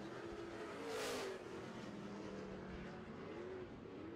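Super trucks racing around an oval track, a continuous distant engine roar that swells as a truck passes and then holds steady, no talk.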